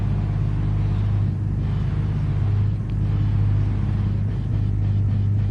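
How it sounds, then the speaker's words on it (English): A Ford GT race car engine in Project One GT drones loud and steady with a deep constant rumble, a few brief dips and thuds, and no talking. "The Ford GT's quite loud."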